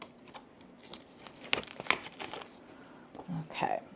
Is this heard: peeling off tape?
yes